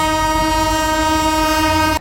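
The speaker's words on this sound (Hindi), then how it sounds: "मालगाड़ी भाई साहब" A freight train rolls through Rajpura Junction railway station on a dedicated freight corridor, sounding a loud, steady horn for two seconds with rumble beneath. No one speaks over it.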